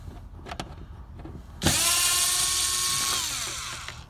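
A power screwdriver starts after a few light knocks and runs a steady, close whine for over two seconds. It is backing large Phillips-head screws out of a door on a first-generation Honda Insight, and the whine slowly winds down.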